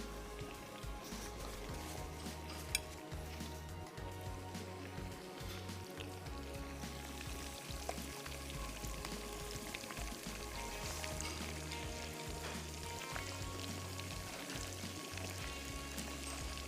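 Chicken drumsticks deep fry in oil with a faint, steady bubbling and sizzle, broken by soft pops and a low background hum.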